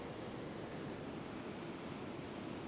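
Ocean waves wash onto a beach in a steady, faint hiss of surf, with some wind across the microphone. No one speaks.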